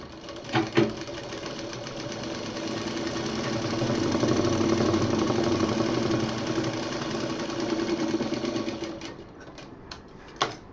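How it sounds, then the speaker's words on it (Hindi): A sewing machine runs in one long continuous burst, stitching pieces of fabric together for a round cushion, loud and steady with brief clicks at the start and end. "यहाँ पर ये सिलाई पलटते हुए इसको हम मशीन चला देंगे"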